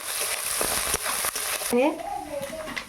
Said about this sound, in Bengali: দিয়ে দেবো আদা বাটা, রসুন বাটা, দিয়ে এটাকে আমি ভালো করে কষিয়ে নেব।